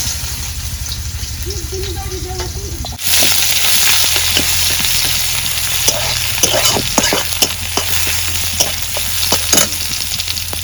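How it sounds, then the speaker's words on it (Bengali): Chopped onions hit hot oil for a Bengali pumpkin and sarputi fish curry. A low hum comes first, then a sudden loud, steady sizzle follows with scattered stirring clicks, close up and without talk. "তেল গরম হচ্ছে, এখন আমি পেঁয়াজ কুচি দিয়ে দেই।"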